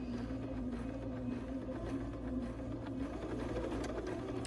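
A sewing machine stitching a gathered blouse sleeve at 7.25 tension, running steadily with a close, even mechanical hum and rapid needle rattle, alone without talk.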